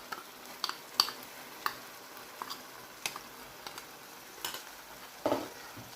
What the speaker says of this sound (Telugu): వేసి ఇప్పుడు మసాలా మళ్ళీ వేయించాలి